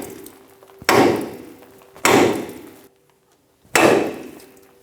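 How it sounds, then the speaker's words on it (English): Three sharp metallic hammer blows strike a steering knuckle on a 2000-2006 Toyota Tundra front suspension to shock loose the upper ball joint stud, each ringing briefly before decaying, with pauses between. "We're going to hit right here with a hammer and try and shock it and make it pop up."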